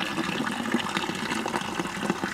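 Water running steadily from a drinking tap at Vorontsov Palace, a close continuous splashing gush with no talk over it.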